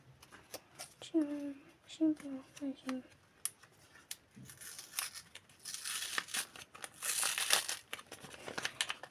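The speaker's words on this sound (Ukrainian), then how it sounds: "Зараз ми будемо відкривати пакетик." A brief voice-like sound, then rustling and crinkling as a paper packet is torn open, louder crackles building toward the end.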